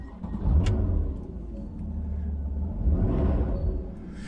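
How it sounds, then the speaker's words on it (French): A rear-engined Porsche 991 Targa Carrera 4S idles with a deep steady rumble after starting, swelling briefly twice as it revs, close and continuous with no voices. "je vais mettre le contact, je vais mettre le micro vers l'arrière parce que le moteur est derrière"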